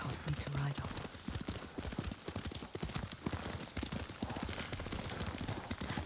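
Horse hooves clip-clop in a steady galloping rhythm as a rider travels in the video game Ghost of Tsushima, close and continuous, with characters speaking over the hoofbeats.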